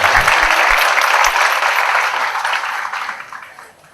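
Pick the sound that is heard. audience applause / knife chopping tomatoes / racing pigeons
audience applause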